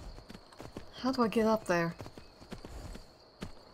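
Horse hooves clip-clop at a walking pace in a medieval-style video game, steady rhythmic thuds running throughout, with someone talking over the middle stretch.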